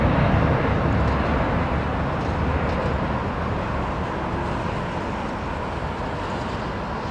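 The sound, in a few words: airplane departing Heathrow Airport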